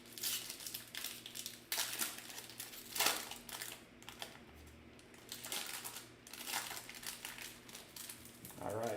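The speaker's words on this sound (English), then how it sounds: "that wrapper's going to be a pain" A hockey trading card pack wrapper is crinkled and torn open close by, producing irregular bursts of crackling plastic separated by brief quieter gaps.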